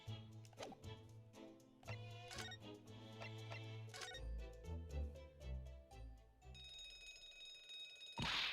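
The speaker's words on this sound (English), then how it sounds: "wait, do you hear the ringing or not?" A bright electronic ringing, like an alarm or bell, chimes in short repeated bursts over soft musical tones, ending in a louder burst.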